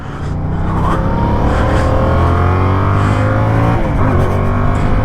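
A 2024 Yamaha MT-07 motorcycle on a first ride: its engine roars loud and close, pitch climbing steadily under acceleration, then dips briefly as if shifting before pulling up again.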